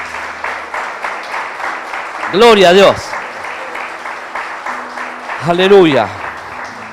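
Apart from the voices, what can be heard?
congregation applauding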